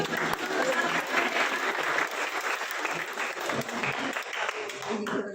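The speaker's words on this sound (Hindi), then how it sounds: "ताली बजाते रहे।" An audience claps steadily through a devotional stage play about the life of Guru Inder Dinn Suri. The dense applause stays even throughout with little variation.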